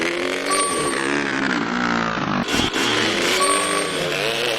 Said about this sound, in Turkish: Motor sesini de kapatacağım ya. Çok ses veriyor.